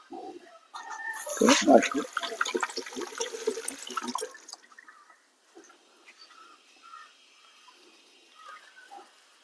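Water runs and splashes as freshly picked miracle fruit is washed under a tap, loud and busy for a few seconds and then fading to a quiet trickle with faint background sounds.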